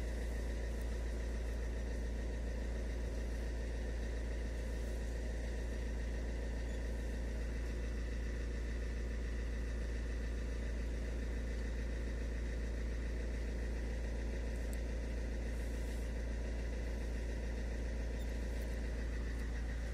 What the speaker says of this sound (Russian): машина работает ровненько, реагирует на педаль газа